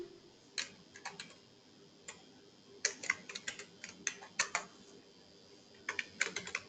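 Someone types on a computer keyboard while writing code, producing quiet, scattered clusters of key clicks with short pauses between bursts and no talking.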